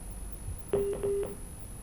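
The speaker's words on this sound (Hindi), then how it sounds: "लगता है फ़ोन डिस्कनेक्ट हो गया है" Telephone line tones sound as a phone call drops: a short run of steady electronic beeps, three or so in quick succession, faint and clean over a quiet background hiss, with no talking.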